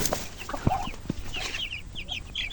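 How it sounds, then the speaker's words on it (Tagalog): One-week-old broiler chickens in a coop, making scattered soft clucks and chirps at moderate volume, with a few louder thumps mixed in. "1 week na yung ating mga alagang broiler."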